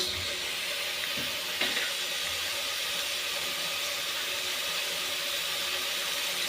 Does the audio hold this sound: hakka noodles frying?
yes